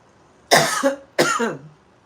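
A pair of quick, harsh coughs up close, one right after the other with a short gap.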